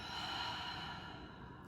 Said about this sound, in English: Another big exhale.